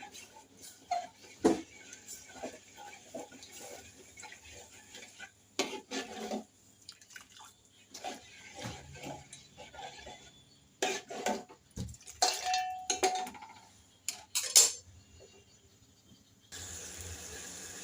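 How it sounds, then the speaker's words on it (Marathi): Besan (gram flour) and water are stirred in a pot for kadhi, heard as soft scattered scrapes, drips and clinks of a spoon against metal. The sounds are quiet and intermittent, with gaps between bursts. "तर याला असं छान असं ढवळून घ्यायचं आपण, जेणेकरून यामध्ये गुठळ्या होणार नाहीत बेसनच्या"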